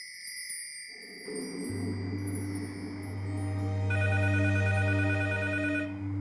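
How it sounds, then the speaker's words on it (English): A telephone ringing with a steady, repeating electronic bell tone over a low, swelling musical drone, loud and close with no talking. "Until Reenella gets a phone call."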